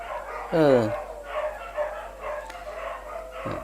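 A dog yelps sharply once, then more barking and howling carry on faintly in the background for several seconds.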